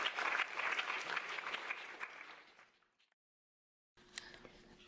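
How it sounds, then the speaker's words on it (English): Audience applause at an academic AI talk session, steady and dense for about three seconds before fading out, then near silence with a faint room sound. "Another round of applause."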